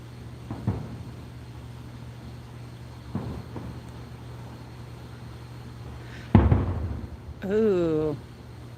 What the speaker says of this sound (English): I didn't know I was going to be putting on a fireworks show for you guys.